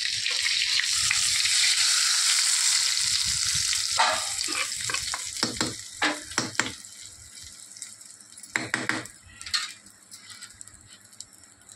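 Ridge gourd tempering for a Kerala-style chutney sizzles loudly in a pan with a bright, steady hiss, then fades into scattered scraping and clinking stirring sounds.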